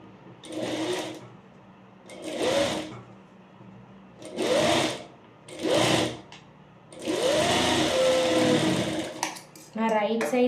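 A sewing machine stitches a fabric seam in bursts, running for about a second at a time, then pausing, with one longer run near the end; a voice is also present.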